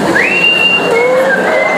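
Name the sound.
speaker imitating whistling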